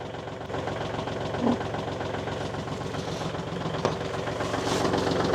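A tractor engine idles steadily while warming up, a continuous low rumbling drone with a faint knocking texture and one or two small clanks, close by and unbroken, with no talking.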